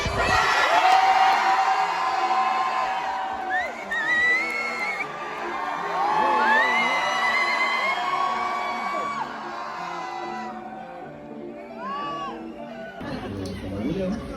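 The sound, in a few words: crowd cheering and whooping at a live event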